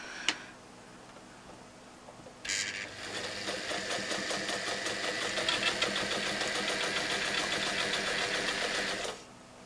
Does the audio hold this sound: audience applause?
no